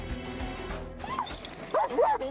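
A police dog barking and yelping during a chase after an aggressive car thief, with several sharp excited barks and whines that grow louder toward the end over background commotion.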